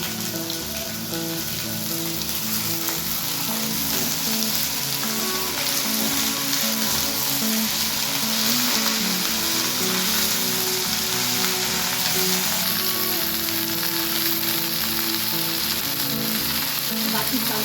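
Ridge gourd frying lightly in a pan for a bottle-gourd-greens curry, a loud continuous sizzle and crackle like rain on a surface, held steady throughout without any voices.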